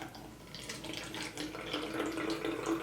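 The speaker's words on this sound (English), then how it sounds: "I'm going to pour some water into a spray bottle" Water from a faucet runs and splashes steadily into a spray bottle for a homemade braid moisturizing mix, a close, continuous trickle with no talking.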